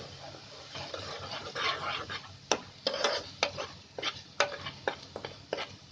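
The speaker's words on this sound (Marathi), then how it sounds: "अशी चांगली तेलामध्ये फ्राय करून घ्यायची" Raw onion and paste frying in oil for dal palak, stirred with sharp spoon scrapes and clicks against the pan over a low sizzle, close up and without talk.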